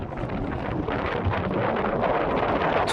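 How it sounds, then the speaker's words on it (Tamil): Sea breeze at a beach near Tiruchendur blows as a steady, loud rush of wind buffeting the microphone for a few seconds, with no one speaking. "அந்த கடல் காற்று வாங்குறது ஒரு நல்ல அனுபவம் தானே."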